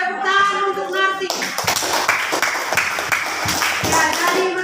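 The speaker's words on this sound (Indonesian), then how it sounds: "Tepuk tangan untuk Narti." Classmates clap for a student named Narti in a school lesson, a brisk burst of close, distinct hand claps from a small group that starts after a brief voice and continues at a quick, uneven rhythm.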